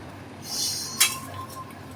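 Egg omelette curry sprinkled with garam masala, stirred in a cooking pot: a soft scrape, then one sharp spoon clink against the pot, followed by a faint ringing tail.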